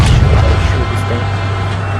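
An MBT-90 tank in woodland camouflage being hit by gunfire in a video game, a loud booming impact followed by a low sustained rumble.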